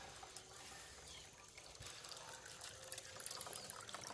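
Water from a homemade pump trickles and pours into a bucket, a faint, continuous splashing flow heard at a distance with no talking.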